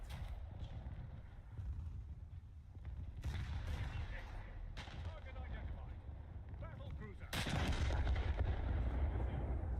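Heavy naval cannon fire in War Thunder aimed at the battleship Hood, booming salvos and rumbling blasts over a steady low battle roar, with someone talking over the gunfire.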